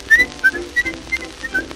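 A person whistles a lilting tune in short, bright phrases with brief pauses between them, alone and fairly close, with no voices in between.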